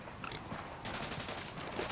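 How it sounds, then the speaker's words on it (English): Rapid gunfire in the video game Ghost Recon Wildlands, a dense fusillade of shots over about two seconds with a brief sharp burst near the start, loud and close. "I'm shooting these fuckers."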